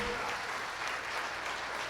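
Church congregation applauding for the Lord during a worship service, a brief, steady, dense clatter of many hands clapping together.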